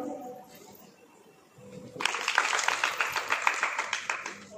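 Audience applause breaks out at a cultural grand finale event, a sudden burst of many hands clapping that stays steady and fairly loud after a short stretch of low murmur.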